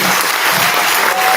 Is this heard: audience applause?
yes